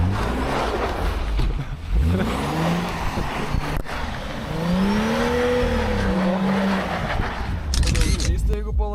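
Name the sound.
car drifting and sliding on icy road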